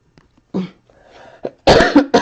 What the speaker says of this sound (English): I am coughing into my elbow when I do that